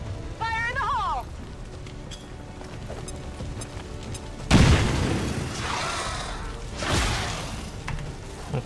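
A grenade detonating in the modded XCOM 2 strategy game, one heavy booming blast that hits hard midway and rumbles away, followed by a second smaller burst, with a voice heard speaking before it.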